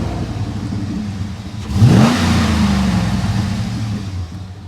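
A lifted 2008 GMC Sierra 1500 Denali truck's engine revs once sharply, the pitch climbing quickly, then holds a steady higher drone before easing off, close and loud.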